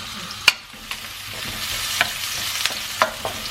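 Marinated chicken with oyster sauce, sautéed for chop suey, sizzles steadily in a pan while a utensil strikes and scrapes the metal in a few sharp clacks spaced about a second apart.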